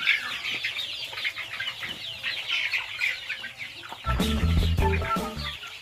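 A flock of local chickens at a farm in Abhayapuri, Assam clucks steadily, then a loud close burst of wing flapping and scuffling breaks out near the end, with no speech.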